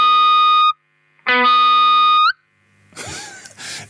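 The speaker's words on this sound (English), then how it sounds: "so if I turn this all the way down, it's instant feedback, which sounds a bit like this." Guitar feedback through an effect pedal set for instant onset: two loud sustained howling tones start abruptly and cut off, each rising slightly in pitch at the end, followed by a shorter burst of noisier squealing.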